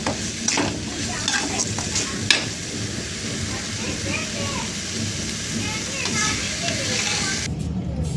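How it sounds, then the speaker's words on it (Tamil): Amaranth greens with tomato and tamarind being mashed in a pot with a traditional wooden churner, a continuous wet stirring and squishing texture with occasional knocks against the vessel. "கடைஞ்சி வச்சுருக்க கீரையில் தக்காளி சேர்த்துக்கலாம். புளி சேர்த்துக்கலாம். இப்போ நல்லா கடைஞ்சிக்கலாம்."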